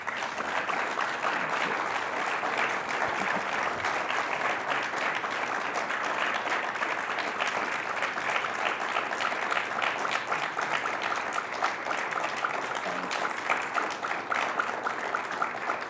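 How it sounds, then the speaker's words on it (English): An audience at an education event gives sustained applause, a dense, even wash of many hands clapping at moderate distance, steady and unbroken for about sixteen seconds with no voice over it. "You can keep applauding."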